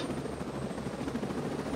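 A helicopter in the video game Ghost Recon Breakpoint makes a loud, continuous rotor and engine drone, steady and close for the whole stretch.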